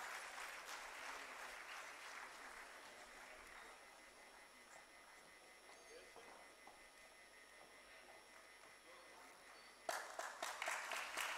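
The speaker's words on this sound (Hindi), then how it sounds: "Please give a big round of applause." Applause from the audience at a health sciences university convocation for a gold medal recipient, fairly faint and distant, thinning out mid-way before a sharper, closer burst of clapping near the end.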